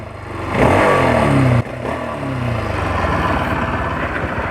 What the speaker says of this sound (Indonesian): Suara mesinnya tuh enak.